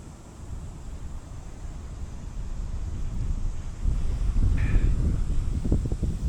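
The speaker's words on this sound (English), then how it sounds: "Getting a little bit breezy." Breezy outdoor wind at sunset buffets the microphone in a steady low rumble that swells louder over the last few seconds, with no talking.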